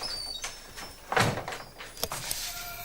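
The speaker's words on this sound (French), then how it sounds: "Fermez la porte." A door in an indoor setting is pushed shut, one solid thud midway through, surrounded by lighter clicks and knocks, fairly close and loud with no voices.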